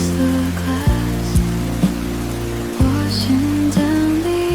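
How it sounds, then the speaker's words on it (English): Rain patters against a window, a steady soft wash blended beneath a mellow lo-fi music track with sustained tones and gentle beats. "Rain on the window, soft against the glass"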